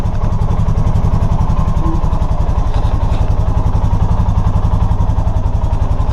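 A 2018 Polaris Sportsman 450 ATV engine idles while warming up, a loud, close, steady rapid thumping putter that continues evenly throughout with no speech.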